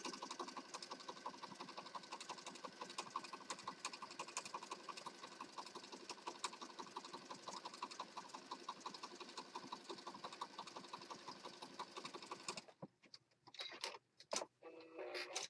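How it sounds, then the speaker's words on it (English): A sewing machine stitches fabric for a Christmas junk journal, running in a fast, even, faint mechanical whir for about twelve seconds before stopping into short stop-start bursts. "now we're going to stitch down the sides"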